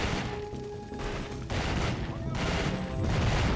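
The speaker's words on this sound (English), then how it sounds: "my gun is on like semi-auto fire" Bursts of semi-automatic gunfire from a PS2 shooter come in short clusters with brief gaps, layered with game noise and a dense, crackling background.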